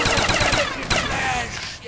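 Rapid automatic gunfire in the Call of Duty Zombies map Kino der Toten, a dense loud burst of shots with a short pause and a second stream trailing off.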